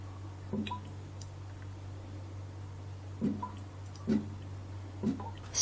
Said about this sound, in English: Some interesting sounds coming from our addition funnel.